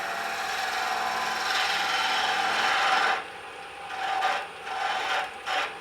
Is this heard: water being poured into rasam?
no